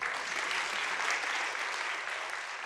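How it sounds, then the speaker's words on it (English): Academic conference audience applauding an organiser, a dense, even roar of many hands clapping that holds steady and close for a few seconds, with no talking on top. "So I want an applause for Claire Major"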